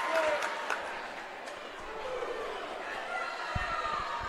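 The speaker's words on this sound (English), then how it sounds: "This crowd's going nuts" Boxing crowd at a welterweight tournament final roars and chatters continuously in a large arena, a dense steady wash of cheering with scattered shouts and thuds.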